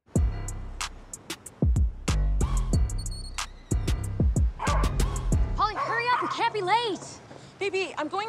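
A small dog yaps and barks in sharp, irregular bursts amid lively speech from several people, with high whining yips and whimpers near the end.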